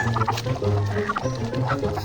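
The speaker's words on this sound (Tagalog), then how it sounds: "pinuntahan ko yung alaga kong manok dyan sa kamalig" Chickens cluck inside a barn in a busy, overlapping chorus of short calls, fairly close and moderately quiet.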